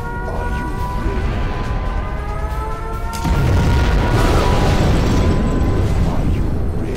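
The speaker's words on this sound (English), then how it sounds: "We have launched our nuclear missile." A nuclear missile explosion in Command & Conquer: Generals Zero Hour roars continuously, a dense rumbling blast that swells louder midway with ringing tones on top.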